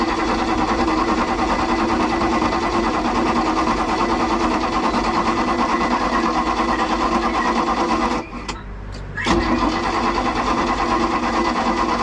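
A Chevy 350 V8 in a 1989 Marlin boat runs with a steady, loud, dense drone, briefly cutting out and then catching again before settling back into a continuous rumble.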